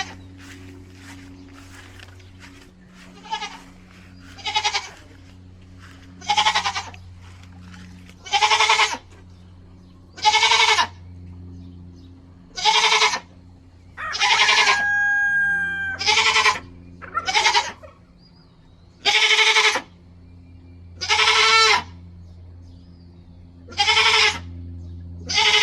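A goat that has just given birth bleats repeatedly, loud and close, with a dozen or so cries spaced a couple of seconds apart over a low steady hum.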